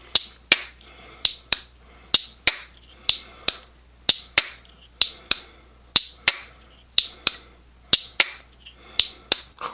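A TPK Lake Champlain Barlow pocket knife's blade snapping open and shut in a steady run of crisp, sharp clicks, about two per second, close up and isolated with no talk.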